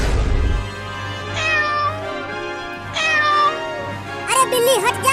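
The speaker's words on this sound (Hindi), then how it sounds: "अरे बिल्ली हट जा, तू ये क्या कर रही है?" Cat meowing in a cartoon skit, three drawn-out meows spaced a second or so apart over a low steady hum, the last one higher and wavering.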